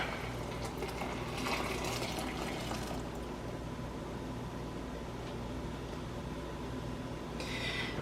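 Milk poured back into a pan while making flan, a soft splashing pour over a steady kitchen hum, brief and quiet, with a second faint burst of liquid near the end.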